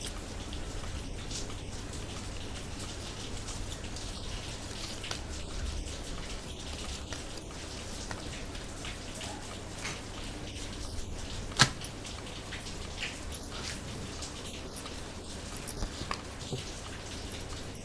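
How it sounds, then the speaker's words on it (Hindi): Rain falls steadily outside, a soft, even patter heard faintly from indoors, with one brief sharper tap partway through. "इसलिए आपको शायद बारिश की आवाज़ भी सुनाई दे रही होगी।"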